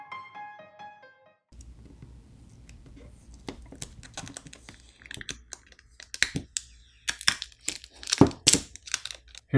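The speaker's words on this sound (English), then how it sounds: "it was pretty difficult prying this battery off" Small crackling, ticking and tearing sounds come from a Nokia XR20 phone battery being pried off with its pull tabs, close and intermittent, growing louder and more frequent as the adhesive gives way.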